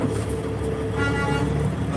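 A vehicle horn toots in the street near a gravel spot where a vehicle is being maneuvered, blending into a steady background rumble of passing cars and buses across the short moment.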